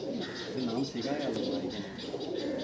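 Pakistani teddy pigeons in a loft give soft, rolling coos, close and continuous, with some muffled background chatter.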